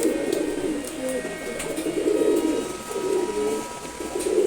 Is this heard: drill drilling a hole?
no